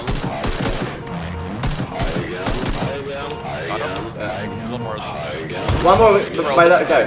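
Gunfire in a multiplayer shooter video game: rapid bursts of shots and impacts ring out over the first seconds, then fade behind a voice talking over the action.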